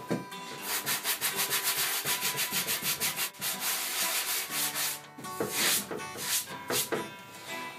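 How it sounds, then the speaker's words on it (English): Plastic car bumper hand-sanded with 80 grit paper wrapped around a block, rhythmic rasping back-and-forth strokes, close and fairly loud, pausing briefly before resuming in uneven bursts. "So I'm going to put this around a block,"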